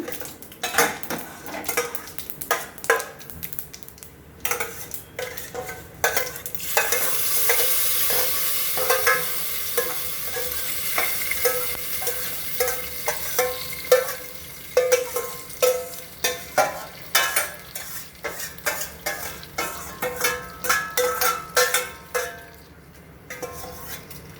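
Spoon scraping and clinking against a pan while stirring puliyinchi, the Kerala tamarind-ginger relish, over a steady soft sizzle, with irregular metallic taps growing denser toward the end; no voices.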